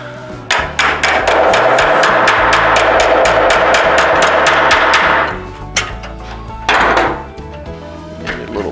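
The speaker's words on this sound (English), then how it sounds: "this is going to probably require a little bit of hammering just to get this to lay down a little bit better" Rapid, loud hammer blows on the sheet metal of a 1968 Oldsmobile 442 in a fabrication shop, a dense run of strikes for about five seconds, then a short second burst after a pause.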